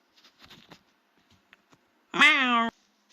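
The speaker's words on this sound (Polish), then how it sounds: "To jest ten sam kot, którego widzieliśmy na ulicy." A cat gives one clear, fairly loud meow lasting about half a second, following a few faint scattered taps and rustles in an otherwise quiet room.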